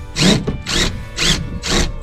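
A power drill drives screws in four short bursts, each a loud, close whir with brief pauses between, no talking.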